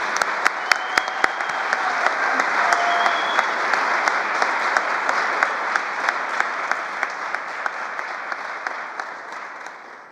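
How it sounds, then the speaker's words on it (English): Sustained applause from a ceremony audience celebrating a nursing class at a white coat ceremony, dense steady clapping with a few sharper nearby claps, gradually tapering toward the end. "Can we all give the class of 27 a round of applause?"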